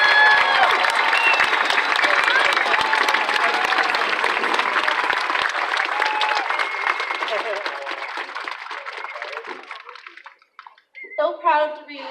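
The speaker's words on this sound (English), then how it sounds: "big round of applause" Crowd at a Special Olympics event gives a big round of applause, loud and dense clapping with cheers that gradually thins and fades, followed by a person starting to speak at the end.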